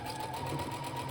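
A sewing machine runs steadily while stitching the folded hem of a pair of pants, a close, continuous whirring hum with a fast needle rhythm throughout and no talking.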